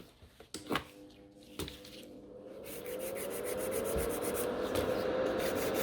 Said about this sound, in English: This one ran a little bit, so we've got more filing. And then we are gonna shape them.